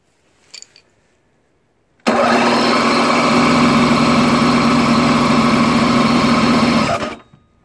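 A Toro CCR Powerlite-E 3HP 16-inch snowblower with a Tecumseh two-stroke engine fires on a pull after a brief small noise, then runs loud and steady at a close idle for about five seconds before cutting out.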